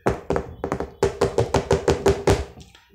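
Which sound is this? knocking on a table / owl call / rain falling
knocking on a table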